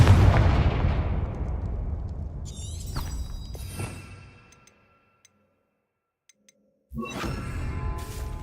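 A Confringo fire spell in the Hogwarts Legacy video game bursts with a loud explosive blast that rumbles and decays over several seconds, followed by silence and then a second sharp fiery blast.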